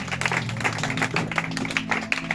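A church congregation applauding during a service: sustained, even clapping from many hands, with faint musical tones underneath.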